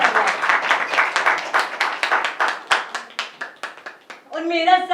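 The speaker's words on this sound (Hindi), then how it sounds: "एक बार ताली जरूर बजाइए इसके लिए" Audience applause at a live Hindi theatre play, many hands clapping in a dense, rhythmic burst that thins out toward the end, followed by a brief voice.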